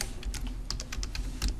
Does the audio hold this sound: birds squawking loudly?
no